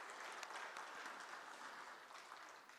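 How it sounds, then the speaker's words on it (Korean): Faint, distant applause from a Sunday church congregation, a steady wash of clapping lasting a few seconds. "이때는 박수 한번 쳐야 되겠죠"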